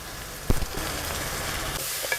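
Three chopped onions drop into hot oil already holding crushed shallots, green chilli, garlic and fennel, giving a brief clatter and then a steady sizzle close by.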